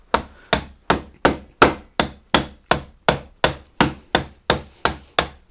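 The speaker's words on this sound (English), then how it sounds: "you can pound it with a mallet, a wooden muddler in my case right now, but it really allows you to kind of really finely crush the ice" A wooden muddler pounds ice inside a canvas bag for a cocktail: about a dozen sharp, evenly spaced thuds, close and loud, with a brief spoken phrase over them.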